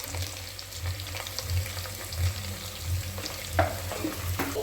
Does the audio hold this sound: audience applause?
no